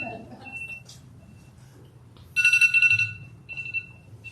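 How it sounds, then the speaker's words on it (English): A timer alarm goes off at an evening arts walk event, a steady electronic beeping tone with bright harmonics that swells loud for about a second, then repeats in shorter bursts over a low room murmur. "Oops, that's my timer."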